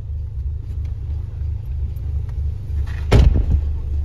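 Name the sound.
car engine rumbling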